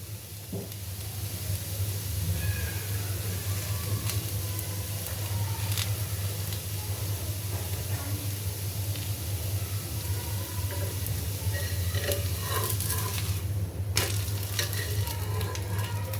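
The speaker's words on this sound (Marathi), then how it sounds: "थोड्या वेळासाठी आपण उलट्या बाजूने सुद्धा घावणा भाजायचा आहे." A ragi ghavane, a thin finger-millet crepe, sizzles steadily on a hot pan. The frying hiss stays even and continuous under a constant low hum, with a few faint clinks near the end and no talking.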